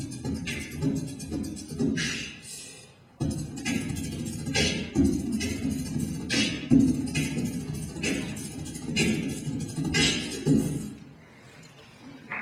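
Fast, sped-up beatboxing pattern made by a human voice imitating drums, with dense rapid kick and snare-like hits and hissing hi-hat bursts, loud and continuous with a brief pause early on.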